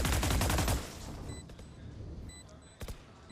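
Pistol fire in Valorant during a post-plant round comes as a rapid fusillade of close, loud shots at the start, then sparse fainter shots and clicks over a quieter game bed.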